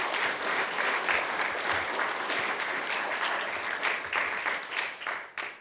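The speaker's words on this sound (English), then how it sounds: "let's give Robert and especially Peter Bradfield one more round of applause" Sustained applause from an audience at the 2021 Defence Media Awards ceremony, a dense steady wash of clapping that holds for several seconds and then thins and tapers off at the end.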